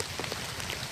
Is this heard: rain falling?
yes